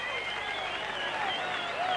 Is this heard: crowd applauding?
yes